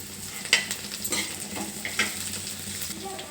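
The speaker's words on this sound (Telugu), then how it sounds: "ఉల్లిపాయలు వేగుతున్నాయి." Sliced onions sizzle and crackle in a hot pan with turmeric, with a utensil scraping and stirring them in irregular strokes; steady frying hiss throughout, close and moderately loud, no talking.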